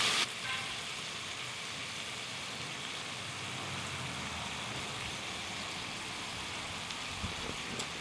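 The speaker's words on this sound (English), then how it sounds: "got the iron skillet going" Breakfast burrito ingredients sizzle steadily in an iron skillet set on an outdoor gas grill, a constant close hiss of frying that runs unbroken and on its own throughout.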